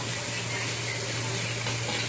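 Bitter gourd strips frying in a pan for a fish-head chorchori, giving a steady soft sizzle with a constant low hum beneath and no talk.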